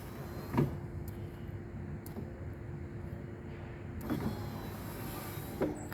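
An electric entry step on a 2018 Auto-Sleeper Kingham motorhome extends with a steady motor whir, framed by a few close mechanical clunks at the start, midway and end.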